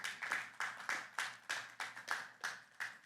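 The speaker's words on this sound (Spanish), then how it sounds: "Vamos a dar un fuerte aplauso a nuestro Dios." A church congregation gives strong applause to God, a steady run of dense clapping with rhythmic surges, heard from some distance without speech.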